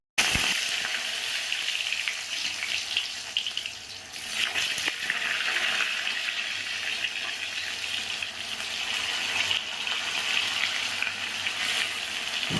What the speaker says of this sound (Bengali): প্রথমেই ভাজা দিয়ে শুরু করলাম।